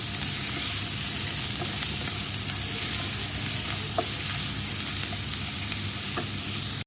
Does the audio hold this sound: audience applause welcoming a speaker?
no